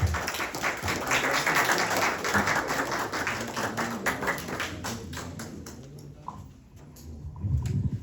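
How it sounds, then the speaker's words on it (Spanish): An audience at a Spanish-language lecture gives a sustained round of welcoming applause for the speaker, dense clapping that thins out toward the end before a rustle of movement. "Le damos un aplauso de bienvenida."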